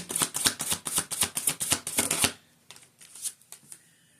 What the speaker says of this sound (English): I just like to give them each a quick shuffle while I'm on camera so you can see that they were shuffled.